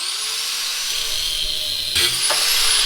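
A rotary cutting tool whines steadily while cutting a washer off a brake master cylinder rod on a Datsun 260Z, and a sharper grinding burst comes near the end as it bites in.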